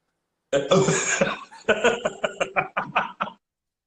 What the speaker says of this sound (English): you can't cough around people no more